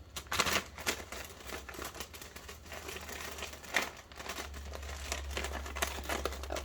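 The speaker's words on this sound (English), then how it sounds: "Sorry for the crinkling." Plastic packaging of wax melts crinkles continuously up close, a busy run of crackles and rustles with small louder bursts, and no voices over it.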